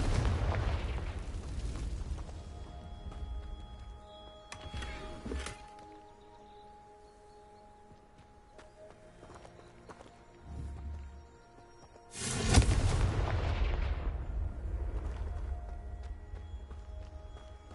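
Confringo fire spell blasting rocks in Hogwarts Legacy: two loud explosive bursts, one at the start and a bigger one midway, each with a rumbling decay, over a background game music bed.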